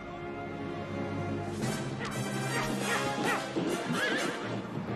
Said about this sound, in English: Guess a horse that appeared out of nowhere.